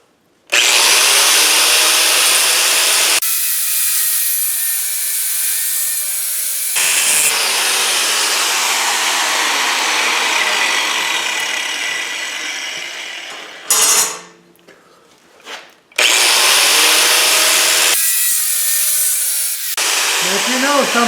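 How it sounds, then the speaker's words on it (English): An abrasive cutoff wheel slicing through steel rod clamped in a vise makes a loud, continuous grinding whine in long stretches, broken by brief pauses and a short lull before cutting resumes. "We're going to cut it with a cutoff wheel."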